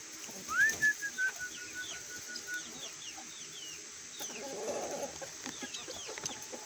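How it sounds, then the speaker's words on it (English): Hens in a backyard flock cluck and squawk softly at a modest distance, with a drawn-out call early on and scattered short clucks and bird chirps after, quiet overall. "Chickens!"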